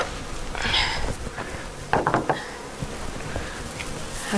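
Bees buzz around an open beehive in a steady outdoor drone, with a few louder individual insects passing close and faint knocks of hive handling.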